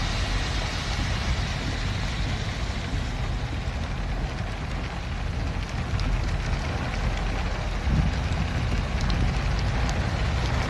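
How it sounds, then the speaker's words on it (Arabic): A heavy rain and hail storm in Madina hisses as a dense, steady roar of downpour and wind, with scattered sharp ticks riding on top, continuous and loud throughout. "انتبهوا من البرد، انتبهوا من البرد."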